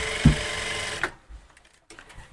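Sewing machine stitching a coat collar in a tailoring workroom, a brief close burst of rapid mechanical stitching that stops after about a second, followed by quiet handling noises.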